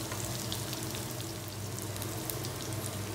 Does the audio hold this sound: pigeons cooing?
no